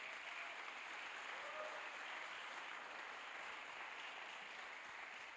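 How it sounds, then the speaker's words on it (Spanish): A church congregation applauds for Christ during a Spanish-language sermon on the resurrection at Amor & Libertad, an even, continuous patter of many hands that stays faint and distant throughout, with no voices on top. "Va a aplaudir, apláudale a Cristo."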